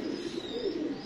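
Soft, low cooing of a Sabz Cheena pigeon at a breeder's loft, a continuous throaty murmur held close and steady for about a second, with no talk.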